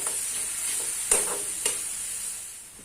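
Onion fries in plenty of oil with a steady, hissing sizzle, broken by two brief clattering knocks as it is stirred in the pan.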